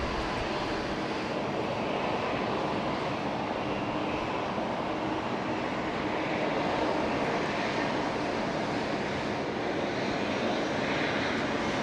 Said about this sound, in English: 748 coming in, Cathay Pacific. It's our freighter.